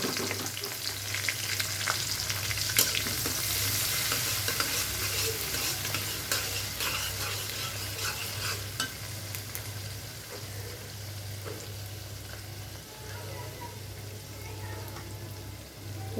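Chopped onions and chilies frying in oil give a constant close sizzle broken by scraping stirs, with a low steady hum running underneath throughout.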